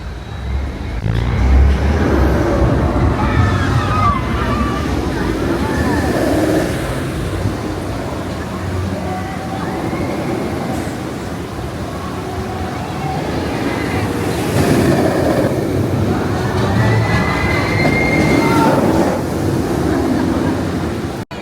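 Riding the Decepticoaster roller coaster at Universal Islands of Adventure in Orlando brings a loud, steady roar of wind buffeting and track rumble that lasts throughout, with voices faintly mixed into the rush.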